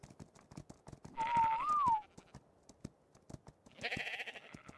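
A single sheep-like bleat from a sheep in the video game Ark: Survival Evolved rises and wavers over a steady ticking, clip-clop rhythm, followed later by a second bleating burst.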